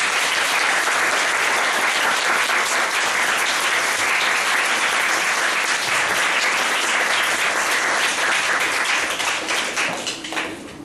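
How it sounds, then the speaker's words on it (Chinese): Warm, sustained applause for Zhao Deyi from a large audience, dense steady clapping filling the room before thinning and tapering off at the very end. "我们是不是给赵德义一个热烈的掌声？"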